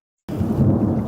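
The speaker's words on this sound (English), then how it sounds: "You can hear the thunder." A deep, loud rumble of thunder rolls in suddenly from silence and keeps growling steadily, with a hiss like rain underneath.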